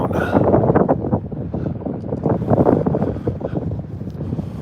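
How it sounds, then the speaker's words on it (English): Strong wind buffeting the microphone on the coast by a sea arch in Iceland, a loud, continuous low rumble that surges and dips throughout. "Oh, this wind was unexpected."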